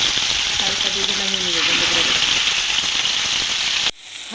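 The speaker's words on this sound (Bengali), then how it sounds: "এখন আমি ভাজতে চলে যাচ্ছি" Small cut chicken pieces for biryani fry in oil with a loud, steady crackling sizzle close by. The sound drops suddenly near the end, and there is no talking over it.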